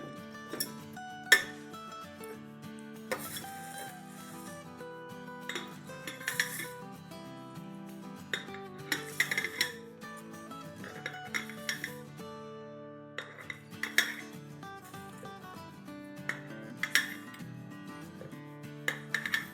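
Homemade chivda spooned into a storage jar makes repeated light clinks and scrapes of a spoon on glass and metal, with gentle rustling of the dry mix between strikes.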